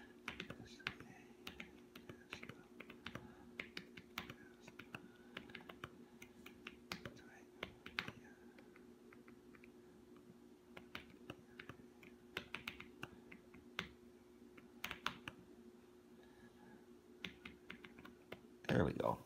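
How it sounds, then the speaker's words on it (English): Soft, irregular key clicks from typing on an iPad Pro smart keyboard carry on steadily throughout, with a constant low hum behind them. "I'm using the smart keyboard on the iPad."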